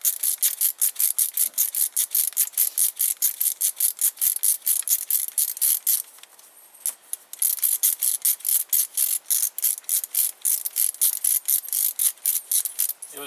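A hand ratchet backs out a starter bolt on a Honda Civic, with a fast, steady run of crisp clicking pawl strokes up close, a brief pause midway, then more clicking.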